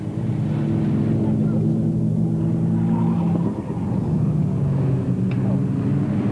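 Racing cars at Alwalton Raceway in a 1983 meeting drone steadily at a distance, a continuous engine roar that briefly dips and then resumes.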